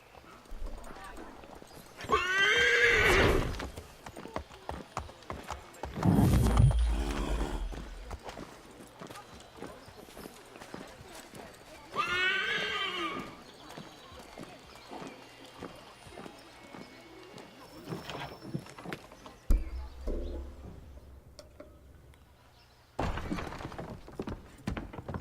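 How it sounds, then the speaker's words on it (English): A horse in Assassin's Creed III clip-clops at a steady rhythm, with several loud whinnies and neighs rising above the hoofbeats during a ride, close and fairly clear. "the only time I actually ride on horseback is during this mission"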